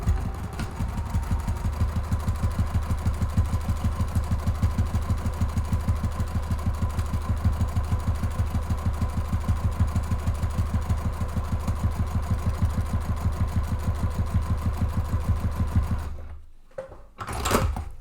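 Close, loud sewing machine running fast and steadily with a rapid even needle rhythm, stitching two rows on a lined slip pocket of a messenger bag, then stopping abruptly near the end.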